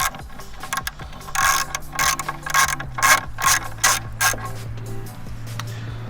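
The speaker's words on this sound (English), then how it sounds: "you're gonna need a 10mm wrench, preferably with a ratchetable end" A ratchet wrench clicks in repeated bursts as it loosens weathered bolts, the pawl's rapid ticking rising and pausing several times with a steady mechanical hum underneath, close and fairly loud.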